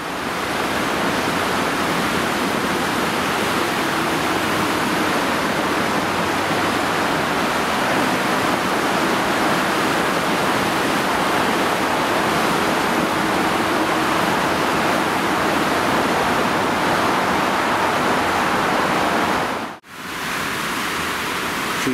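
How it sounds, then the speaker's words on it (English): The River Ogmore runs high and fast in a steady, loud, broadband roar of rushing water that continues unbroken, with only a brief dropout near the end. "She certainly has a decent flow of water today."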